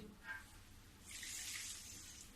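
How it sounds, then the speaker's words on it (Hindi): Water is poured from a short distance into a wok of sugar to make syrup for malai raspua, giving a soft, brief hissing splash that lasts about a second. "जितना मेरा चीनी था उतना ही मैं पानी डालूंगी"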